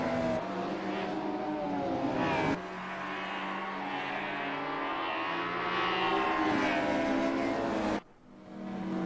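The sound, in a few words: turbo flutter of touring race cars at Wellington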